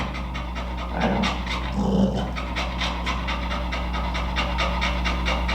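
A dog pants steadily and rhythmically up close during a training session on foot sensitivity, its quick breaths continuing throughout over a low steady background hum.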